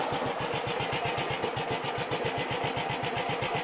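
A Heinkel bubble car's small engine starts up and settles into a steady, close, rapid putter with even pulses, loud and continuous throughout with no talk.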